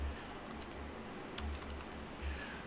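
Fingers typing code on a computer keyboard while building a React application: a faint, steady patter of key clicks with a few louder taps.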